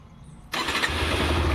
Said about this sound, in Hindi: मैं इंजन स्टार्ट करके दिखाता हूँ आप लोगों को।